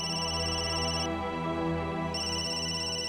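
A telephone rings in a domestic scene from a Punjabi TV drama, a steady electronic ringtone with sustained tones that continue throughout, loud and alone with no talk.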